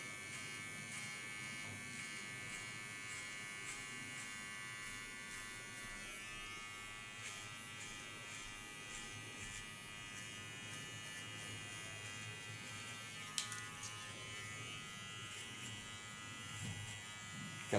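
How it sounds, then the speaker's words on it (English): A small electric hair clipper buzzes continuously while trimming a short pixie haircut, a close, steady, faint high hum that runs throughout with slight changes as it moves through the hair, with no talking. "Take a small clipper."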